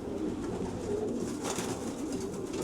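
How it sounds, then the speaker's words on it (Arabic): A homing pigeon, a red Kashmiri racing pigeon, gives soft, low repeated coos close by over a steady murmuring background. "هذا الطير من الحمام الزاجل."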